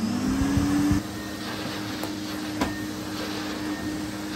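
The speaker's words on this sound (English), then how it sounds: "Right, let's do some vacuuming." A 2006 Henry vacuum cleaner runs steadily on low power, a continuous motor hum that is a little louder in the first second and then settles to an even drone, close and alone with no talk.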